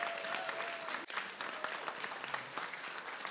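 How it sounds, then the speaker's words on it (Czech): Audience applause at a conference launching a school curriculum reform initiative, as a student is welcomed on stage: steady, dense clapping from a crowd filling the whole stretch at a lively, even level. "A potlesk pro Elišku"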